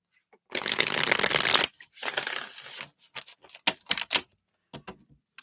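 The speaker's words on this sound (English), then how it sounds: "Let's give these a couple shuffles here." A deck of tarot cards is riffled in a long burst, then shuffled again in shorter snaps and taps, close up and crisp.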